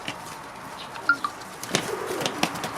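Pigeons in a shared pigeon loft give a few soft, low coos and scattered calls against quiet room noise, with brief rustles and bursts of movement growing busier toward the end.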